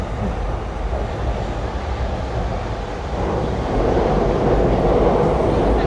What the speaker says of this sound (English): You can hear the trains going above us.